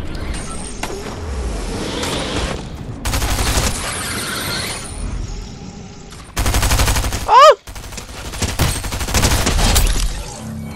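Fortnite gunfire during a race on a speedway track, bursts of rapid shots mixed with engine roar and vehicle noise, loud and dense, with a brief whooshing sweep partway through.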